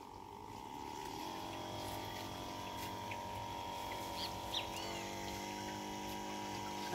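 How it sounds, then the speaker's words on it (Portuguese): An electric sprayer pump drives fertilizer solution into tomato irrigation, giving a steady, even motor hum with a droning tone that holds throughout at moderate, constant loudness. "Agora é só ligar o pulverizador"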